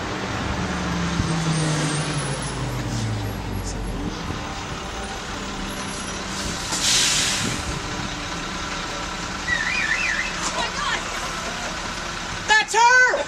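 A yellow school bus pulls up outside, a steady road-vehicle rumble with engine idle and passing traffic texture that holds for the whole stretch, moderately distant, with a brief louder clatter near the end.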